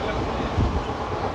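Passenger train running near Kalyan on a crowded night journey from Mumbai toward Bijapur, giving a steady low rumble with faint voices underneath.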